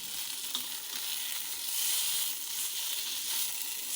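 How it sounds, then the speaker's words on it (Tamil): Pav bread sizzles and fries in cow's butter on a pan, a steady soft crackling hiss with occasional light stirring scrapes, no talking. "இதை நல்லா ரோஸ்ட் பண்ணி எடுத்துக்கலாம்."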